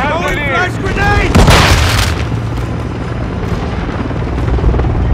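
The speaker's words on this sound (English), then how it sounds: "Flash grenade!" A flash grenade in Call of Duty Modern Warfare 2 goes off with a loud booming burst and a ringing hiss that fade into steady background battle noise. Game voice callouts come just before it.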